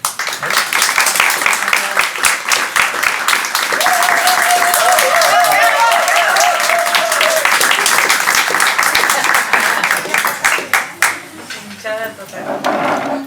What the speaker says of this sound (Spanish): Creo que es la primera vez que la gente así vitorea en tu club, el club de fans.